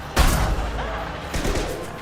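Gunfire in the video game Mass Effect 2 (Legendary Edition): two loud, sharp shots about a second apart ring out over a steady, busy game background.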